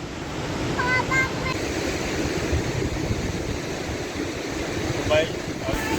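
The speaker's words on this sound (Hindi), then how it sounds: "वैसी वो हैवी लेवल स्प्रिंकलिंग है ना इस फॉल की" Heavy spray and falling water at Khamosh waterfall near Skardu, a steady loud broadband roar filling the whole clip, with faint voices briefly audible near the start.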